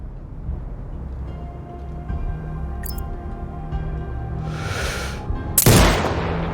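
Sniper rifle fire in the video game Sniper Ghost Warrior Contracts 2, a low rumbling ambience broken by a brief crack and a hissing burst, then one loud close shot near the end.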